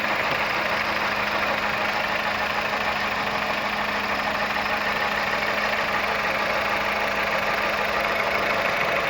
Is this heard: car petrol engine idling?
yes